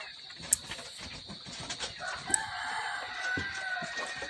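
H&M breed backyard chickens at afternoon feeding time, clucking and calling near and far with a rooster crowing, plus a couple of sharp sounds from the coop, no clear speech.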